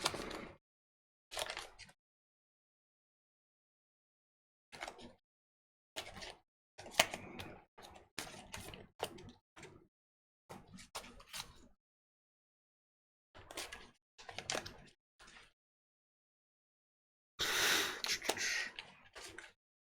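Tarot cards are shuffled by hand at close range, the crisp riffling coming in short bursts separated by brief pauses, with a longer, denser flurry near the end.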